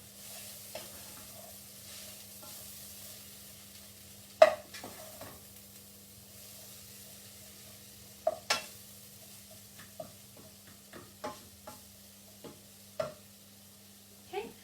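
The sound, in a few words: stirring a mixture for sweet potato quesadilla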